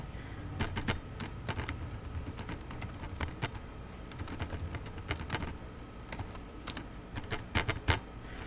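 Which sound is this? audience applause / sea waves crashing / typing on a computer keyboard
typing on a computer keyboard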